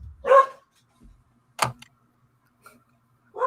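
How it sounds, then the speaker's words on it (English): A dog barks three times in sharp, separate bursts, fairly close by, with near silence between the barks as a trash truck arrives. "Behold the dog heralding the coming of the trash truck."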